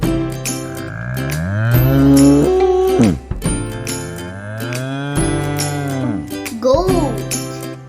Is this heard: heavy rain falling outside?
no